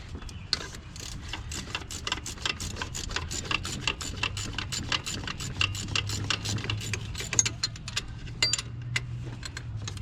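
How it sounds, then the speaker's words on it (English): A ratcheting 14mm wrench loosens the alternator bolt on a 2011–2016 Hyundai Elantra with a 1.8L or 2.0L engine, giving a steady run of rapid, close mechanical clicks over a low background hum. "So I'm going to get in there with a 14mm wrench."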